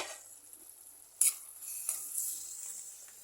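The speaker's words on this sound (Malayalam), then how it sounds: "നമുക്കൊന്ന് ഇളക്കി വയ്ക്കാം." Cashew thoran being stirred in a pan, a spoon scraping and clinking against the metal over a soft sizzle, with one sharper knock and a few quieter scrapes, close but fairly faint.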